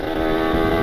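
Close, loud, steady drone of a Kawasaki Ninja RR two-stroke motorcycle engine held at high revs, a buzzing rasp that barely varies, with no one talking over it.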